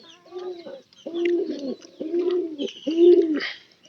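Domestic pigeons coo in four distinct, rounded phrases with short gaps between them, close and clear against a quiet background, with faint higher chirps mixed in.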